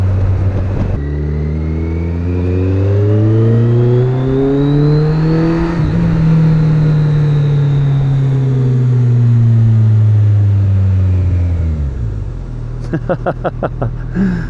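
A Kawasaki Concours 14 sport-touring motorcycle with a Delkevic exhaust revs up hard and accelerates, its pitch climbing then easing, loud and close, before settling to a rumbling idle with a few sharp pops.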